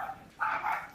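A pet dog barks twice in the background of a VR chat room, short sharp yelps close together and moderately loud, with no talk over them.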